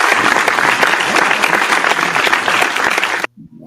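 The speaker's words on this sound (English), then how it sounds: "The claps are loud" Loud, close applause from a group fills about three seconds, then cuts off sharply, followed by a brief low murmur.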